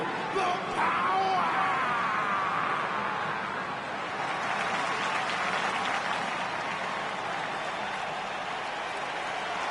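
Crowd at a WWE wrestling event in Tokyo applauds steadily throughout, a dense, continuous wash of clapping and cheering with a few raised voices and whoops near the start.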